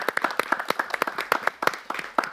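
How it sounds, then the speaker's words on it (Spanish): Church congregation clapping in praise of Christ during a Spanish-language Christian broadcast, with sharp, uneven claps from a smallish group, fairly close and steady throughout. "¡Un aplauso a Cristo!"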